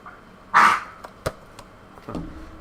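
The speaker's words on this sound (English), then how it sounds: "That's my dog over there hacking up something." A dog hacking up something nearby gives a burst of harsh, rasping retching, then a sharp short click and a weaker second hacking sound near the end, with no talk.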